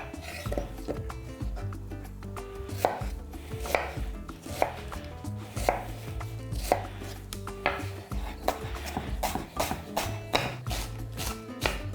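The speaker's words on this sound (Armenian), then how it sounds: "և երկու գլուխ միջին չափի սոխ մանր կտրատում" Two medium onions are chopped finely with a knife on a board, a quick run of sharp, close taps repeating steadily without pause.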